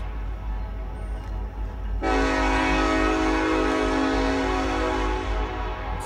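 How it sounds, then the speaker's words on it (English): Norfolk Southern southbound coal train in Richlands, Virginia, sounding a long, loud steady horn that starts abruptly and holds over a low rumbling rail background. "here comes a train"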